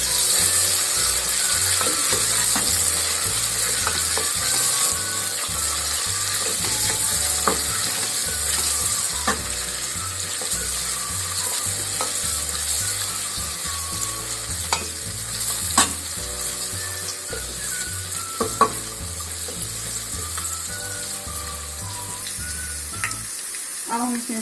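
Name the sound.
frying and browning in a pan while stirring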